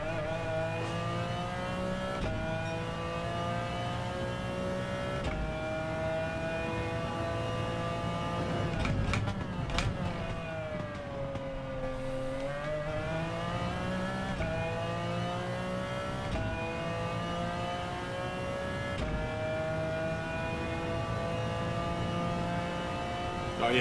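Racing car engine in Gran Turismo 7, a sustained high revving drone with steady harmonics that dip and climb as the car shifts and accelerates, loud and continuous throughout.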